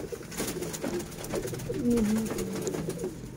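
Pigeons bred for flying coo in a low, rolling phrase on a rooftop, the calls close and clear over a steady outdoor background hum.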